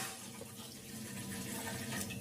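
About one and a half glasses of water are poured into a pot heating on a stove for ragi porridge, giving a quiet, steady splashing trickle for a couple of seconds.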